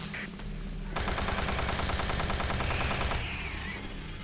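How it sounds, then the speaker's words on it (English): Machine gun fire in the video game Doom 3 (original Xbox version) rattles in one rapid, sustained burst of about two seconds. Dense game noise comes before and after it. "see the machine gun feels pretty nice, although the, I think the sound of it's a bit bit bit rubbish"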